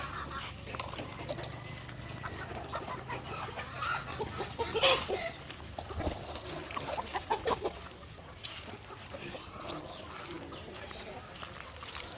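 Rhode Island chickens clucking on a farm, with repeated close clucks and calls over steady background noise while people talk nearby.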